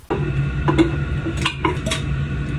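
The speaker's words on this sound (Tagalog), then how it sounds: "Ang problema, maliit yung kaldero ko kaya pinalitan ko." Clanks and scrapes of metal cooking pots being handled and set down as a small pot is swapped for a larger one, several knocks close by over a low steady hum.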